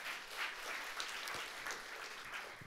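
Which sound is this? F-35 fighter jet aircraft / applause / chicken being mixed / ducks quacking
applause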